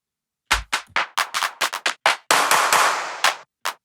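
Sampled hand claps from an Ableton sample pack, played one after another: about a dozen crisp, close, dry hits of varying length, a few with a longer noisy tail, then a pause before a final clap.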